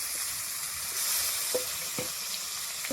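Potatoes with tomato, turmeric and chili powder sauté in a pan, giving a steady, close, loud sizzle with a few brief clinks from stirring.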